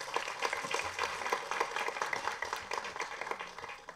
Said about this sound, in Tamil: நல்லா கரகோஷம் கொடுங்க அவருக்கு